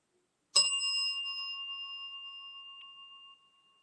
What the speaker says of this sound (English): going to ring that bell again